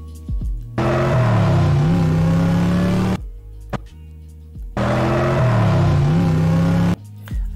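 Two bursts of a car engine revving and accelerating, each lasting about two seconds, separated by silence. The sound is loud and close, with its high end cut by a parametric equalizer, so it comes across dull and muffled.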